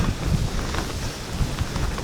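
Strong wind buffets a microphone on a mountain summit ridge, a steady low rumbling roar with gusty swells that fills the whole two seconds, with no voice heard.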